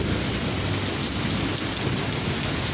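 Steady rain falls outdoors where a motorcycle is being ridden, a continuous broadband hiss with dense spattering and a low rumble underneath, loud and unbroken with no voices.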